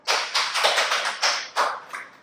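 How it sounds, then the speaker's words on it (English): A handful of course participants clapping during a team strategy training session, a few bursts of scattered handclaps close by, fairly loud and without talk. "So a big round of applause to yourself."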